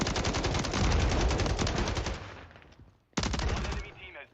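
Rapid automatic gunfire in Call of Duty: Modern Warfare III, a loud close burst of rattling shots that fades, stops briefly, then resumes in a second sharp burst.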